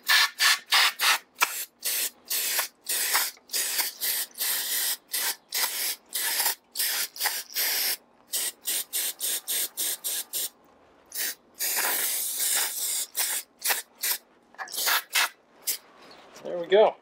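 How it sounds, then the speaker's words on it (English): An aerosol can of parts cleaner sprays rifle parts in a rapid series of short, close hissing bursts, repeated dozens of times with brief gaps, ending in a longer spray. "And I'm just going to spray it loose."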